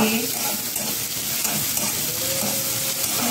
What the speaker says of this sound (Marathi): आता आपल्याला कांदा परतून घ्यायचे